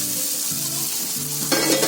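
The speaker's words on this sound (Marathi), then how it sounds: "थोडं चरचरत आहे ना, ते चरचरायचं थांबलं ना की ते पाणी त्यातलं मरून जातो." Vegetables fry in a pan with a close, steady crackling sizzle, plus a brief stirring scrape near the end, with no voices.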